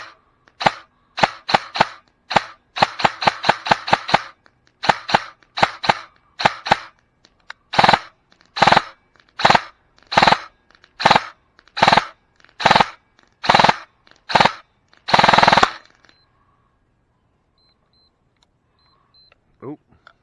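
A G&G ARP9 airsoft gun fires single shots outdoors, a long series of sharp, loud, close cracks, first in quick clusters and then evenly spaced, ending in a brief quick burst before quiet.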